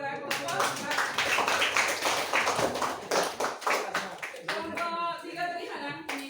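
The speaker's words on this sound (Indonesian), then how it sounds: "Sebelumnya kita berikan aplaus kepada kelompok" A class applauds a group that has just presented, a dense patter of hand claps mixed with voices talking over it before it thins out.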